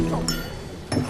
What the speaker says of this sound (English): as his glass dropped to the floor at a state banquet in 2003